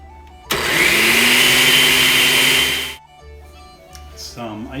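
A blender whirs loudly and steadily for about two and a half seconds, mixing milk and ice cream into a shamrock shake, then stops abruptly, leaving quiet kitchen noises.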